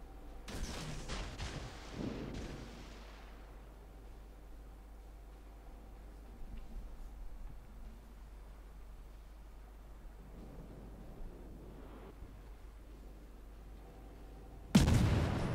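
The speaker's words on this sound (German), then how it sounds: "Hindenburg schießt jetzt da auf ihn" The German cruiser Hindenburg fires its guns in World of Warships: a cluster of heavy booms at the start, a softer distant thud midway, and another loud blast at the end over a quiet hum.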